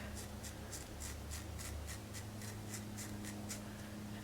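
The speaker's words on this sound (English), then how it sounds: "I think I'm gonna cut it real quick." Scissors snip the bangs of an HD lace wig in a fast, regular series of about a dozen light crisp cuts, close up, over a low steady hum.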